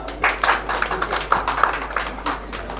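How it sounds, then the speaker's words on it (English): A crowd at a Manav Adhikar Raksha Samiti anniversary function claps in a loose, uneven round of applause, fairly close and steady, over a low hum. "Give her a big round of applause."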